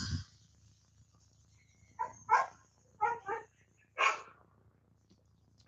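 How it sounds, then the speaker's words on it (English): A dog barking outside, a few distinct barks in short bursts with pauses between, moderately near against a quiet background. "Now he's going to sit out there and bark."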